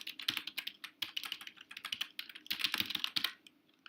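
Rapid, uneven clatter of keys on a computer keyboard, close and fairly loud, with bursts of fast typing separated by brief pauses and no voices.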